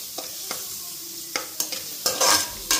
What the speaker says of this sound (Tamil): இப்போ நல்லா அதை வதக்கிக்கணும்